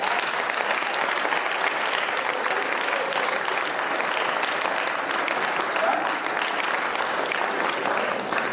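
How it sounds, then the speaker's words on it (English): A crowd applauds steadily for several seconds at a centenary celebration program, a dense, sustained clapping that stays loud and even throughout. "The big clap"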